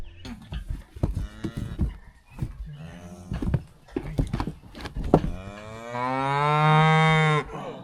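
Cattle moo on the first day of an Alaska cattle drive, with several short lowing calls scattered through the clip and one long, loud, drawn-out moo near the end. No one speaks.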